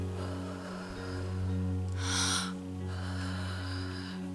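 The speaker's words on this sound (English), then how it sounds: "Deep breaths in. Releasing, slow release." A slow, deep breath in and a long exhale stand out over a soft background hum, with one clear airy breath sound near the middle.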